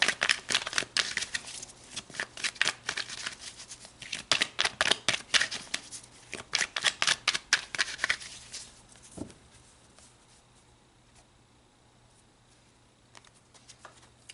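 Tarot cards are shuffled in quick riffling bursts of crisp flutter and patter for about nine seconds, close up, before the sound drops to near quiet.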